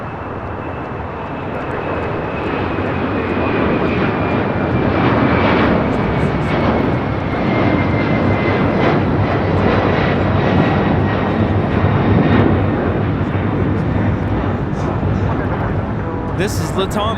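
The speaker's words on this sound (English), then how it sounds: "2479 taking off to Lima, Peru on a 767-300ER." A LATAM Airlines Boeing 767-300ER bound for Lima takes off at LAX, its jet engines a loud, steady, broadband roar that holds for many seconds while the aircraft climbs away.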